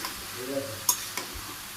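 Vegetables sautéing in a pan in a village home kitchen, giving a brief close sizzle punctuated by a couple of sharp utensil clicks and scrapes.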